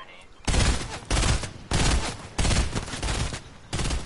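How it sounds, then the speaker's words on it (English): Bursts of rapid gunfire from a Fortnite match, five loud broadband volleys each about half a second long, separated by short gaps, close and dominating. "Who the fuck's shooting at me?"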